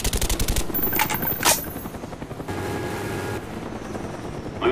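A Cobra attack helicopter in a Call of Duty match thumps with rapid rotor beats amid bursts of machine-gun fire and gunshots, loud and busy at first, then a steadier rotor drone.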